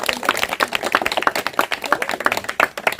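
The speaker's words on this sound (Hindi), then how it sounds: "जोर से ताली बजाएंगे" A church congregation clapping loudly together, dense rapid hand claps forming continuous close applause with no pauses.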